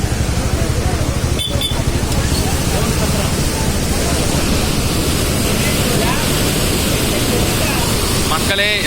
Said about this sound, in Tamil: ஆமாப்பா, நிறைய தண்ணி போகுது.